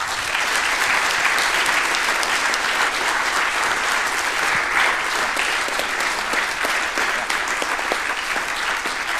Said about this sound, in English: I would like to see a big applause for Patrick as well, please.